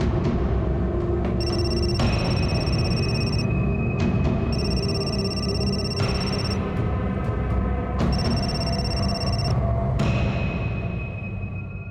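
A telephone rings repeatedly in regular bursts of bright electronic trilling, about every two seconds, over a low steady rumble.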